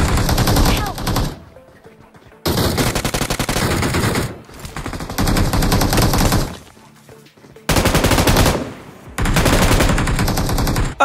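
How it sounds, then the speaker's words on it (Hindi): Loud bursts of rapid gunfire in BGMI (PUBG Mobile) in long sustained volleys, separated by short quieter gaps, with no talking. "लेकिन बाहर पे बड़ी जोर से गोली चल रही है।"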